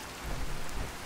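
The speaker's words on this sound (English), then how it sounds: "Sorry about the rain and the noise." Steady heavy rain pours in the Fallout 4 game world while a low thunder rumble swells briefly, filling a short moment with dense hiss and deep bass.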